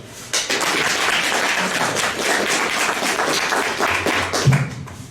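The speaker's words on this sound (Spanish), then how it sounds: "Un aplauso." A seated audience at a documentary presentation claps, a dense, fairly loud wash of applause that starts abruptly and keeps up steadily for several seconds, with no voices over it.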